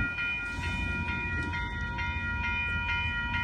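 An Amtrak Capital Corridor passenger train with an F59PHI locomotive rolls past on 98th Avenue in Oakland, California, its wheels clicking rhythmically over a continuous rumble and high tonal whine close by.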